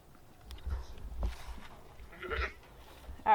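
A few scattered goat bleats, one clearer call near the end, over quiet New Zealand farmyard background and faint shuffling.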